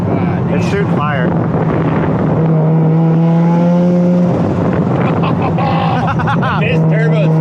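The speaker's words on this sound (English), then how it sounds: "This turbo sounds, dude. Oh my god, it sounds so good." A turbocharged Mazda FD RX-7 rotary engine hums steadily with a rising whine, heard close up under wind noise while people talk loudly over it.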